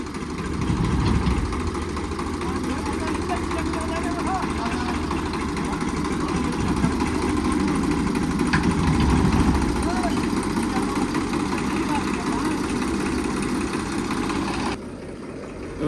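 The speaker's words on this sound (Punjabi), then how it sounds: "ਪਰਾਂ ਨੂੰ ਜਾ ਰਿਹਾ ਟਰੈਕਟਰ" Tractor engine running steadily on a sandy farm track in Punjab, a continuous mid-low drone heard close and unbroken, with a voice talking over it.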